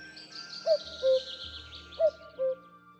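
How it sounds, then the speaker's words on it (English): A cuckoo calls twice in spring by the Bunduff River, each time its clear two-note cuckoo phrase, fairly close and distinct against a quiet background. "The cuckoo arrives to announce the beginning of spring."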